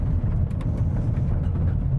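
A Ford Bronco Sport driving on a rally course gives a loud, steady low engine and road rumble with tire and gravel noise over two seconds, no talking.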